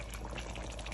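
Hot water pours in a short, steady trickle during preparation of an okra stew, a quiet, close liquid stream with no voices.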